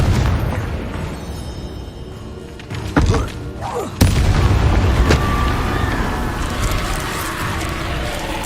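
Confringo blast spells in Hogwarts Legacy on PS5 go off as booming explosions, with two sharp impacts near the middle rising out of a dense, rumbling wash of game sound.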